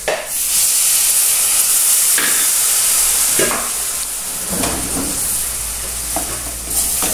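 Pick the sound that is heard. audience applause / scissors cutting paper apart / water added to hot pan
water added to hot pan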